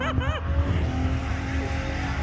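A modified Hyundai Getz hot hatch's exhaust drones and burbles steadily at close range, with a brief shout over it at the start.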